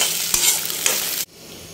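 Potatoes fry in a pan with a loud close sizzle and a couple of sharp stirring knocks, then the sound drops abruptly to a quieter hiss near the end, with no voices.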